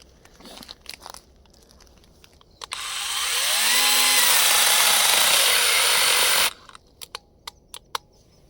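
A GRAND cordless battery saw cuts steadily for about four seconds, a loud continuous rasping whine with a pitch that bends as the blade bites, framed by scattered clicks and knocks before and after.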